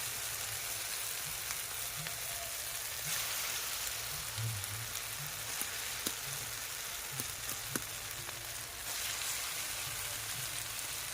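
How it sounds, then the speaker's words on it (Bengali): Chicken pieces frying in oil with well-cooked spice paste, stirred steadily before potatoes go in; a continuous close sizzle with occasional spatters and scrapes, no talking. "চিকেনটা আমি ভালো করে কষে নিচ্ছি"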